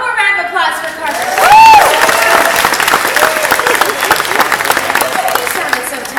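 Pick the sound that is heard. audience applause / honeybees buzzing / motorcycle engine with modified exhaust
audience applause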